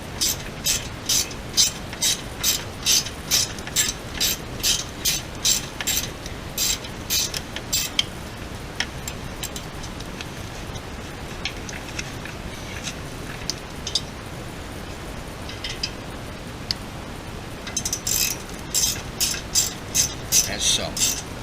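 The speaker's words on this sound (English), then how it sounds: "2 screws that hold this end cap on are stars. So I'm going to remove these." Star screws being backed out of the end cap on a Fuel Moto-equipped motorcycle exhaust, giving rapid ratcheting clicks in bursts with a quieter pause in the middle, close by and fairly loud.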